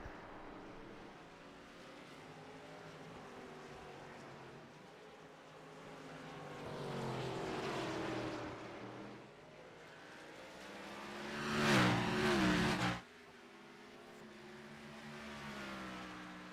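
NASCAR-style race cars, including a Toyota Supra, lapping a roval circuit in a racing video game, engines droning steadily and swelling as cars pass, peaking in a loud close pass before cutting back to a quieter hum.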